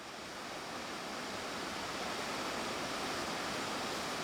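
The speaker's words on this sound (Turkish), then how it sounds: "Bereket dağlarına tırmanırken keşfettiğimiz bu güzelim şelaleyi kayda alıp sizlere sunuyoruz." Kaymaz waterfall in the Bereket Mountains near Antalya, Turkey, roaring with a steady, dense broadband rush of falling water that stays constant and loud throughout, with no voices.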